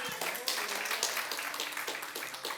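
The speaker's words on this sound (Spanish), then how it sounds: "Dale un aplauso al Señor." A church congregation applauds during a sermon, a fairly quiet patter of many hands with rhythmic bursts of clapping coming through steadily from some distance.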